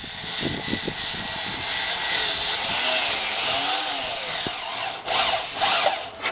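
A power drill bores through acid-resistant sheet metal roofing, a loud sustained whine close by that shifts in pitch as it cuts, breaking into harsher bursts toward the end.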